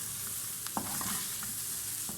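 Chicken sautéing with spices in a hot pan, a steady close sizzle broken by a few scraping stirs, with no voices.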